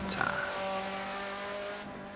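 Tatuus NT07 Formula Master race car in Assetto Corsa, a sharp high-revving engine whine held steadily after a brief click at the start, loud and close with no speech.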